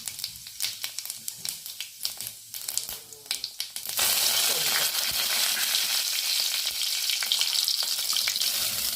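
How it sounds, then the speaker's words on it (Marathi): Cumin seeds hit hot oil in a wok, bringing a sudden loud, steady sizzle after a few seconds of scattered clicks and light tapping, then crackling continuously to the end. "तेल तापले, थोडं जिरं टाकून घेऊया।"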